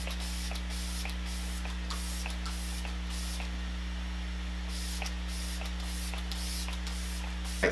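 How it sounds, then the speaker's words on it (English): A steady hissing spray of makeup setting spray onto a face runs throughout over a constant low hum, with brief pauses and faint clicks between bursts; no one speaks. "I'm going to go ahead and set all of this with my Lock It setting spray"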